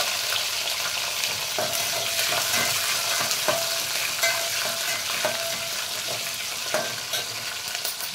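Green chillies fry in hot oil with mustard seeds, cumin and chana dal, giving a steady, loud, close sizzle with occasional scraping stirs and no talk.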